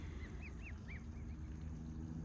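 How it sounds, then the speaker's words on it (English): Sebastopol geese by a farm pond give a quick run of faint, distant honks over a steady outdoor background hum. "There's my geese."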